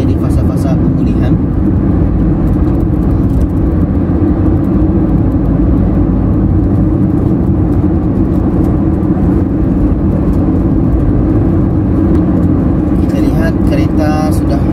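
Cars on a Malaysian toll highway make a loud, continuous roar of engines and tyres with a steady whirring drone, unbroken for the whole stretch.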